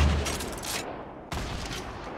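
Bursts of rapid gunfire from the video game Fortnite crackle in two close, loud volleys, the second starting abruptly after a brief drop.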